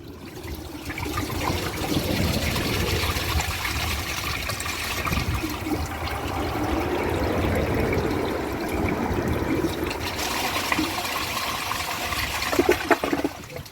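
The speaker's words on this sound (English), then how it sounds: "So let's give it a flush." A toilet that earlier clogged on a washcloth flushes down a grocery bag, a sustained rushing gush of water that swirls and drains, ending in trickles and gurgles.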